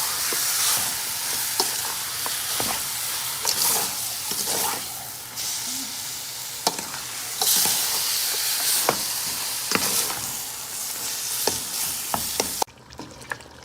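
A spoon stirs tamarind paste and duck soup ingredients in a pot over a constant sizzling, steamy hiss, with repeated scraping clinks from the mixing.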